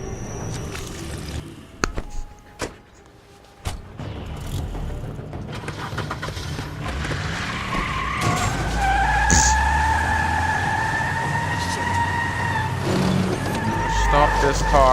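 Car in The Wolf Among Us skidding with a long, loud tire squeal rising over engine roar after a few sharp knocks, with voices speaking over it.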